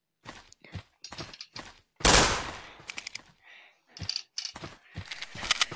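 Gunfire in a video game, sharp bursts and single shots in short, irregular clusters with one loud sustained blast near the middle, close and clear with no talking.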